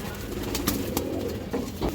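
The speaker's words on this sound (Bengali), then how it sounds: "পাথর চোখের একটা মাক্সি গিরিবাস মাদি কবুতর।" A stone-eyed Maxi Giribaz female pigeon cooing softly against a steady low background hum, with a few faint brief clicks.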